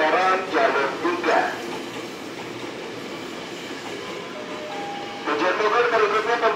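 Tokyo Metro 7000 series commuter train arriving at Duri station, a steady rumble of rail noise with squealing and clacking wheels, louder at the start and again near the end, under a platform announcement.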